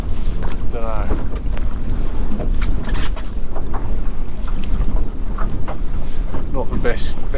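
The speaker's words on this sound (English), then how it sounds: "Conditions are bloody horrible. I mean, it's wind over tide and the wind's winning." Strong wind buffets a boat out on the Solent in rough wind-over-tide conditions, a loud, constant rushing roar with water slapping against the hull, and brief faint voices in the background.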